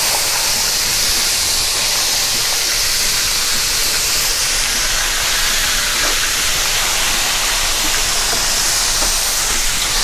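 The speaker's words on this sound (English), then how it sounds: "Our chicken is frying up really, really good here." Chicken frying in hot oil for a soul food fried rice dish gives off a loud, steady, unbroken sizzle up close, with no talking.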